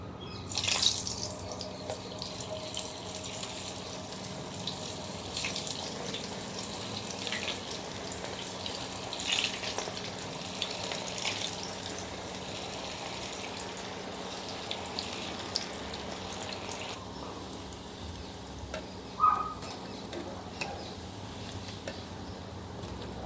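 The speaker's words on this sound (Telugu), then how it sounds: "ఇప్పుడు మన మంచూరియా ఉండల్ని ఫ్రై చేసుకుందాం." Veg manchurian balls deep-frying in hot oil on a high flame, a steady, dense bubbling hiss with watery crackle that carries through the whole stretch alone, easing slightly toward the end.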